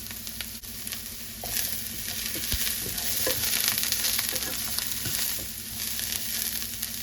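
Onions sizzling in a very hot pan, a loud continuous hiss of frying with scattered scraping and tapping of a stirring utensil throughout, no voices.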